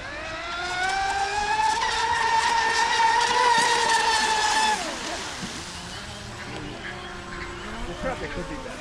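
A TFL Rocket RC racing boat with a 4S setup whines loudly nearby, its motor pitch rising and holding steady before dropping off and fading, with people talking over it.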